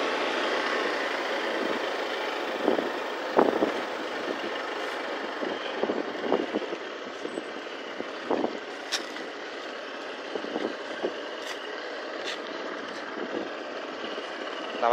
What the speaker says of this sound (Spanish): Hoy despacito va sacando la moto